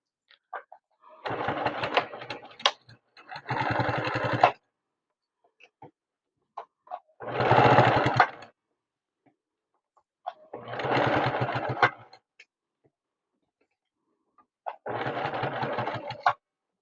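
A sewing machine stitches a fabric bowl cozy in four or five short bursts of fast, buzzing needle action, separated by pauses with quiet handling noises, heard close and clear.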